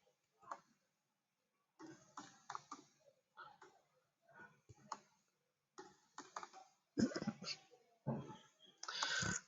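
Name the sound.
typing on a computer keyboard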